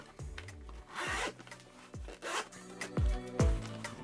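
A zipper on a cigar case, a water-resistant type, is pulled open in several quick strokes, close and crisp, with scraping rasps between them and a few soft handling thumps.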